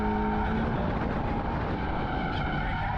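A Toyota GR Supra or GR 86 engine roars continuously and loudly as the throttle is held during a drift, with a steady dense growl and faint tire noise throughout.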